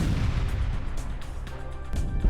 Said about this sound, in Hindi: एक के बाद एक धमाके से रूसी टैंक के परखच्चे उड़ गए।